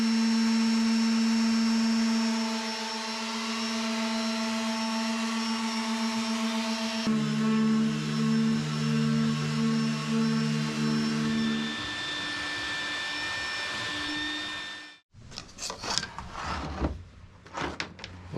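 Power sanding on a small sailboat, a steady loud whirring drone that holds for about fifteen seconds, shifts pitch partway through, then stops and gives way to a few scattered knocks and handling noises.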